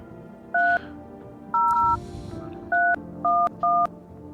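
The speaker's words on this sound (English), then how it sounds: "Let's phone Forrest. 300-312." Phone keypad tones in the video game No I'm Not a Human: five clear, loud dual-tone beeps punched at an uneven pace, each a short steady pitch, over a low murmuring game background.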